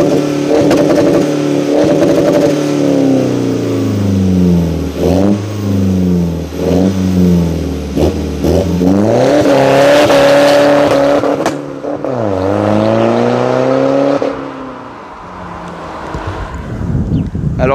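A car engine revs hard in repeated surges and roars past close by, its note rising and falling over about eighteen seconds before the sound fades as it drives away.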